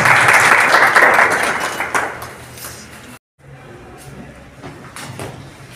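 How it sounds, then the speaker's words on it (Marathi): An audience claps at a felicitation ceremony honouring journalists, loud dense applause for about three seconds, then a brief silence and faint scattered sounds. "सर्वांना विनंती आहे की आपण टाळ्या वाजवाव्यात।"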